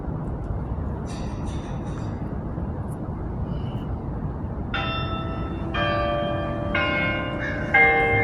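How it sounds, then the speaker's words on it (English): Church bells begin tolling in the distance during a chiropractic stretching session, several clear resonant strokes ringing out one after another over a constant low rumble. "that bell, I think, just started up."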